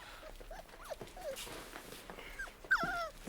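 A dog whimpers in soft, high, wavering whines and little yips, quiet and close, with faint background noise and no talk over it.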